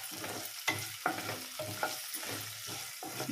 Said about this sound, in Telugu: అలాగే కరివేపాకు వేసి ఇప్పుడు ఈ తాలింపుని బాగా వేయించుకోవాలి